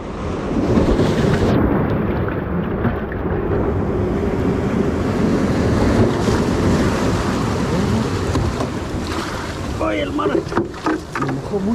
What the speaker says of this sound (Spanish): Es esa ola gigante.